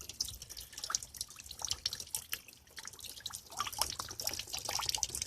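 Rainwater drips and trickles from a rain catchment spout into a barrel, a busy scatter of close, irregular splashes and patters running continuously with no voices.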